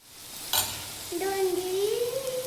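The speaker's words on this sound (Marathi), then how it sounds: "इकडे ना भुर्जी चालू आहे" Egg bhurji sizzles in a pan with a brief stirring scrape, a soft steady fry under a faint whistling tone.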